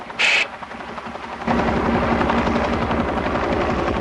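A helicopter over a naval ship starts with a heavy, rapid rotor chop that swells suddenly into a loud, continuous thudding drone close by, after a short sharp burst near the start.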